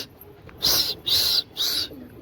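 Pigeons in a rooftop loft, being prepared for a pigeon-flying tournament, beat their wings in three quick, close, evenly spaced whooshing bursts over a quiet background.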